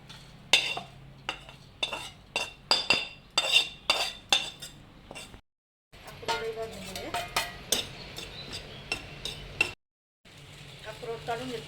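Roasted almonds scooped out of a pan, a metal spoon clinking and scraping in rapid bursts against the pan with brief pauses between, close and fairly loud.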